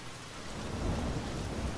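Steady rain hisses with a low rumble of thunder swelling underneath, a dense continuous wash at moderate volume with no voices.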